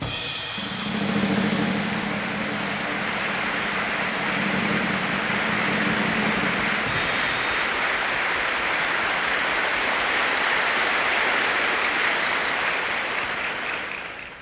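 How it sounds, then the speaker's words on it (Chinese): A large audience at a gala show gives a guest a long, warm ovation. The applause is dense and continuous, holds steady for about fourteen seconds, and then fades, with no speech over it. "让我们以热烈的掌声来欢迎最丑陋的明星林峰先生"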